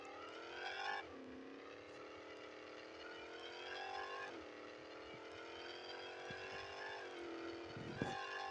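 A bone-stock Ford Mustang engine drones from inside the car while driving, rising in pitch as it pulls through gears, with shifts that drop the tone before it climbs again, steady and moderately loud.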